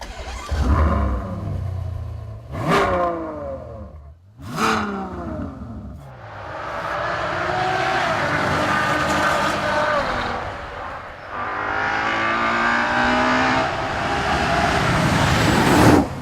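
A Ferrari FF's 6.3-litre, 660-horsepower V12 cranks and fires with a few sharp blips of revs, then settles into a loud, sustained roar up close, with no talk over it.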